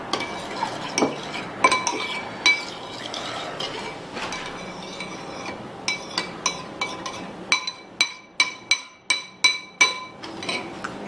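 A spoon stirs yeast and warm water together in a bowl while making bannock, a run of quiet scraping swirls that turns into rapid, evenly spaced clinks of metal against the bowl.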